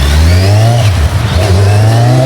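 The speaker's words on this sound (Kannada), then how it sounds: "ಗಾಡಿ ಸ್ಟಾರ್ಟ್ ಮಾಡಿ ಒಂದ್ ರೌಂಡ್ ಹೋದೆ." A Kawasaki Z900 motorcycle engine runs loud and close, revving up and down with a clear rising and falling pitch and a brief dip midway.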